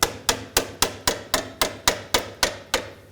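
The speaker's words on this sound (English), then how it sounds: "Just give it a tap with a hammer." A hammer taps a hose clamp on the steering rack bellows of a 2007-2013 BMW 328i, about a dozen sharp, evenly spaced metallic knocks, close and loud, with nothing between them.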